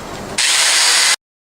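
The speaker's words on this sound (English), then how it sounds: "just using this polycarbonate pad, scuff pad type thing" A power drill spins a polycarbonate scuff pad against a rusty painted valve cover, stripping it: a quiet lead-in, then a loud, steady, harsh grinding whir for about a second before it cuts off abruptly.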